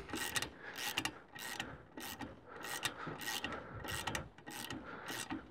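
A wrench slowly turning a screw that squeaks toward the end of the turn, during work with an induction heating tool; repeated rasping, creaking strokes in a steady rhythm, close and fairly loud, with no voice.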